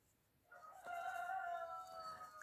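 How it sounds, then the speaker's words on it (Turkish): A single rooster crows loudly, a drawn-out cock-a-doodle-doo rising out of quiet background with chickens nearby, no voices. "Arkadan gelen tavuk ve horoz sesleri için kusura bakmayın lütfen."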